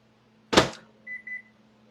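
A home kitchen microwave oven sounds a quick triple beep after a loud thump from the door or plate, with a steady low hum underneath and no talking.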